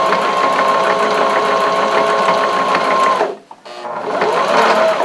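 A sewing machine stitches a fabric scrunchie in a steady, close, rapid whirring run that stops briefly near the end and then starts again.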